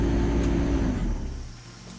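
A Sherp amphibious ATV rolls downhill in first gear, its engine a loud, close, steady low rumble that eases off toward the end, with no talking.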